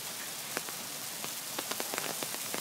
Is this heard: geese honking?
no